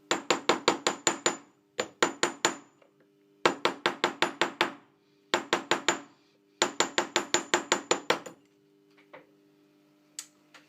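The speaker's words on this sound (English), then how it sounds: "Just tapping the edge to make sure it's all flat." Rapid light taps flatten the edge of a handmade wedding ring, coming in tight bursts of sharp metallic ticks separated by short pauses, close and crisp, with a few scattered taps trailing off at the end.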